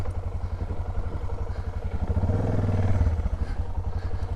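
Motorcycle ridden along a rough dirt bush track, engine throbbing steadily up close, rising briefly in a louder rev midway before settling back, with rattling clatter over the bumps and no talking.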